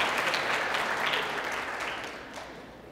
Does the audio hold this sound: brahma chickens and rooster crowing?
no